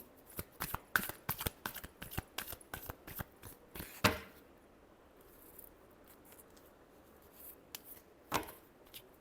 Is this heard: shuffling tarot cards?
yes